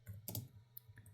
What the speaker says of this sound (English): We are typing here